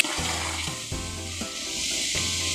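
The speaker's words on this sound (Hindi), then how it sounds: "गोश्त फ्राई हो चुका है अच्छे से।" Mutton frying in a large pot of oil for a big batch of chicken pulao, a steady loud sizzle with a few short scraping stirs breaking through.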